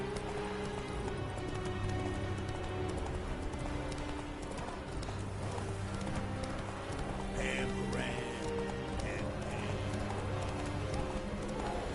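A horse gallops in The Witcher 3 video game, its hooves clip-clopping in a rapid, steady rhythm throughout, with sustained background music underneath.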